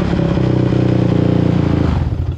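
A quad bike engine runs loudly right after a jump start, with a steady, close, throbbing idle that briefly dips and roughens near the end.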